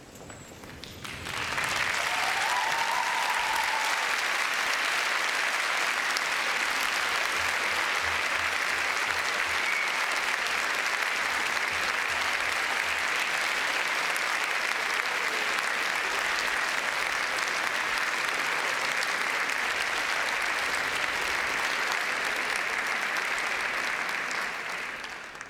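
Graduates and guests at a Cardiff University graduation ceremony break into loud, sustained applause that swells quickly and keeps going for over twenty seconds in a large hall, with no talking over it.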